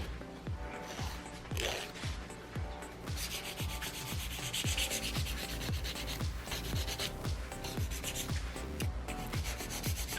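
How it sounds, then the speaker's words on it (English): Hand file rubbing over a sculpted acrylic stiletto nail, rounding out harsh lines, in quick repeated rasping strokes, close and steady throughout with no talking. "So you'll want to bring it up like this to round out any kind of harsh line you might get from hand filing."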